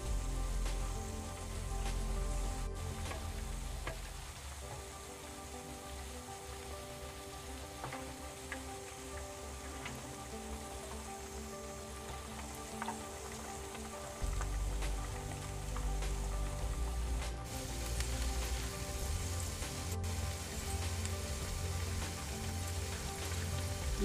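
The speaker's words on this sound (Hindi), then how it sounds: "मंचूरियन बॉल्स एक तरफ से सिकना शुरू हो गई" Manchurian balls frying in a pan give off a soft, steady sizzle with crackling pops, with some tonal background running underneath and a few sharp clicks.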